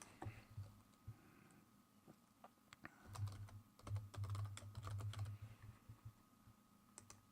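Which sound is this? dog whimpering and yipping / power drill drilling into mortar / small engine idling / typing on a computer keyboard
typing on a computer keyboard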